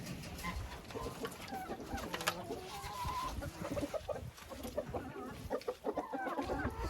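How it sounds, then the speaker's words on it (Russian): Laying hens that keep producing eggs through winter cluck and squawk close by in their coop, a busy, overlapping chorus of clucks and calls with occasional louder outbursts. "Это цыплята, которые несутся всю зиму."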